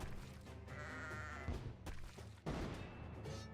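Sheep bleating in the Kingdom Rush tower-defence game, a short bleat standing out over continuous game music and battle thumps, with a sharp impact partway through.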